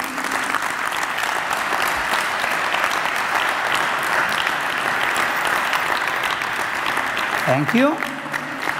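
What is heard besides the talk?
audience applause for a dance demonstration couple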